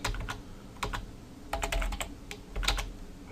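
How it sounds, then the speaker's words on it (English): Bursts of fast typing on a computer keyboard, close and clear, with short pauses between clusters of keystrokes and no speech. "I can't type today."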